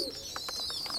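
Feeding pigeons and young squabs give soft, low repeated coos in a quiet loft, a series of gentle rounded pulses over a steady background hiss with faint higher chirps.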